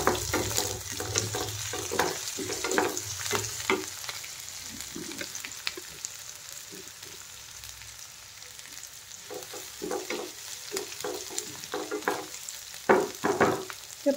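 Onions sizzling and frying in a pan for poha, with a steady hiss and repeated scraping stirs of a spatula, close and fairly loud throughout, no talking.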